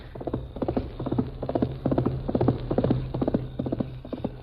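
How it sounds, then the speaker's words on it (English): A running horse gallops in a quick, steady three-beat rhythm of clip-clopping hooves. The hoofbeats are close and clear, with no talk over them. "Golly, look at that horse run."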